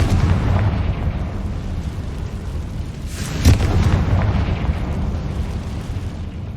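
A Confringo spell explodes in the Hogwarts Legacy video game, a single sharp blast bursting out midway through a dense, rumbling wash of in-game noise that carries on before and after.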